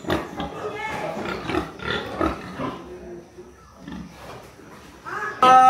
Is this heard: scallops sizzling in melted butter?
no